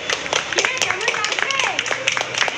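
Scattered hand clapping rises and falls at a prize ceremony for a three-kilometre marathon race while a person keeps talking over it.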